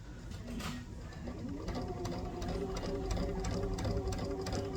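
A sewing machine stitches a zipper pouch in a rapid steady mechanical hum and chatter, running close and continuous for several seconds at an even pace.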